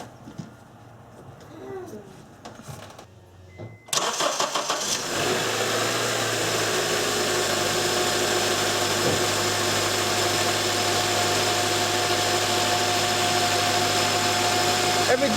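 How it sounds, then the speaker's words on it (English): A Honda or Acura car engine cranks and fires up after a short quiet stretch, then settles into a steady, even idle that runs on close by with no other sounds over it. "We'll start the vehicle and make sure we're in good shape."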